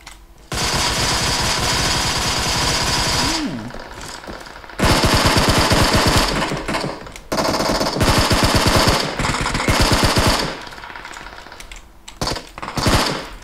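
Automatic gunfire in the video game PUBG Mobile comes in loud, rapid bursts separated by short pauses, each burst a fast rattling run of shots, with no talking over it.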